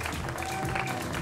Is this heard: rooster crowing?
no